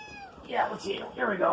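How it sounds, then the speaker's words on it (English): A domestic cat meows a few times in the background, while a person talks casually over the cries. "if you hear meowing in the background"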